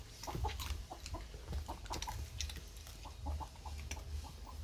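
Chickens, including young hens, cluck in scattered, soft bursts nearby on a summer evening over a constant low background rumble, with no one speaking.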